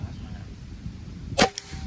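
A single sharp, short crack of a PCP air rifle shot cuts through quiet background noise near the end, followed by a faint metallic ping of the target being hit.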